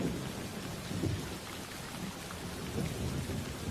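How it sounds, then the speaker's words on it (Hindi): Heavy rain falls at night in a steady dense hiss, with low thunder rumbling beneath it and swelling in soft waves. "रात के 1 बजे थे, पर बारिश का कहर बिल्कुल भी कम नहीं हुआ था।"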